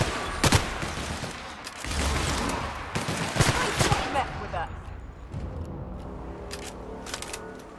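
Gunfire from a weapon in the video game The Outer Worlds: several sharp bursts of shots, loud and close, crackling in quick succession before fading to quieter game ambience.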